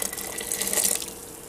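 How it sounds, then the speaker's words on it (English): Boiling water poured into a bowl of cake mix, a short splashing trickle with faint clinking, close and fairly quiet. "You come over here and you stir in boiling water."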